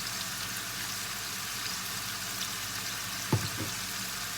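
Minced beef being stir-fried with chili for basil stir-fry with konjac noodles: a steady close sizzle of oil and meat, with one brief utensil knock near the end and no talking.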